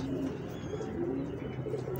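A teddy female pigeon coos softly in a low, murmuring run of short calls, faint against a hushed background.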